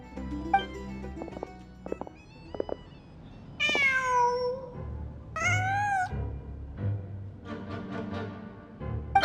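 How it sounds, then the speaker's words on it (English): Cat in the video game Genshin Impact meowing several times, a few drawn-out rising and falling meows standing out clearly over quiet game ambience, with softer short sounds between them. "Just a cat."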